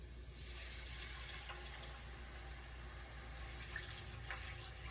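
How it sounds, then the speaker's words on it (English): Broth poured from a container into a cooking pan for semi-homemade cornbread stuffing, a steady close liquid splash and trickle running continuously without a break. "Now I'm going to take 2 cups of this broth and pour it right into our pan."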